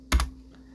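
A single quick Ctrl+T shortcut struck on a computer keyboard: two close, crisp key clicks in fast succession, alone against a faint hum.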